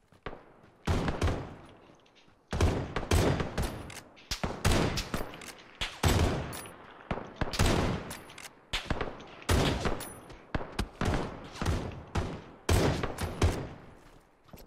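Win94 lever-action rifle shots in a ten-player PUBG firefight, with many loud, sharp cracks firing in irregular clusters, some close and echoing, with brief pauses between bursts.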